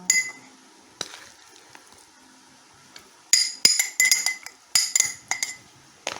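Clinks and taps of a spoon against a glass jar as chicken gizzards are packed into it, sparse at first, then a quick cluster of sharp clattering knocks.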